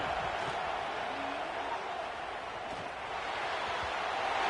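Broad, steady crowd roar from a packed stadium in the NCAA 26 college football video game during a big third-down play, a continuous wash of cheering with no clear peaks, heard alone at moderate level.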